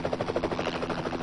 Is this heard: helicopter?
yes